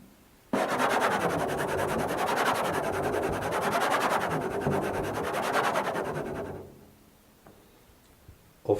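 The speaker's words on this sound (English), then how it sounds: "The other scraping technique that is used in the first movement involves the nail of the right finger." A fingernail scraped in a glissando across a solo percussion instrument, a sustained rasping hiss that starts abruptly, holds steady for about six seconds, then fades, followed by faint ticks.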